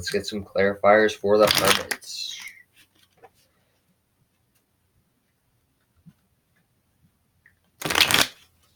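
Tarot cards are shuffled in two short, loud riffling bursts, one near the start and one near the end. Someone speaks just before the first burst, and the stretch in between is nearly silent.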